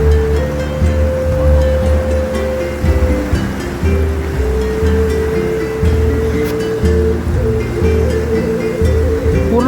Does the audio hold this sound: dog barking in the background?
no